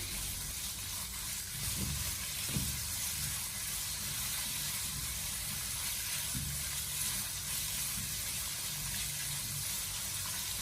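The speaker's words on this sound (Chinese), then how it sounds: "先把五花肉慢慢的煸炒变色，将它炒出多余的油脂。" Pork belly stir-fries slowly in oil in a wok over low heat, a steady soft sizzling hiss with a few low scraping thumps from stirring, quiet and close.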